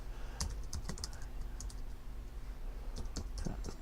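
An email address being typed on a computer keyboard, soft scattered key clicks in short bursts with pauses between, quiet and close over a faint background hum.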